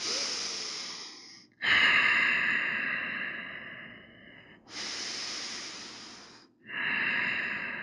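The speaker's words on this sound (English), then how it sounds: "Close your eyes and just take a few breaths." Slow, deep breathing during a relaxation exercise: two full inhale-exhale cycles, each long airy breath swelling then fading, close to the microphone with no talk.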